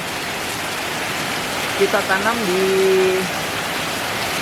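Steady rain pouring down outdoors during the rainy season, a dense even hiss throughout, with a person speaking briefly over it.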